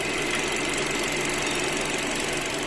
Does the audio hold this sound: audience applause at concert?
no